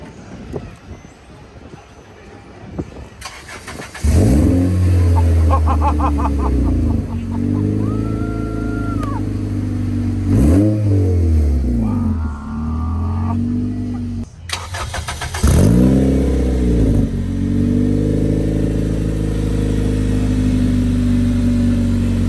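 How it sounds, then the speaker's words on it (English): A turbocharged stock Honda engine running 10 pounds of boost starts up and revs hard in several loud bursts, rising and falling sharply with pauses between, close and dominant. "It's now on 10 pounds of boost, stock Honda engine, and it makes 435 wheel."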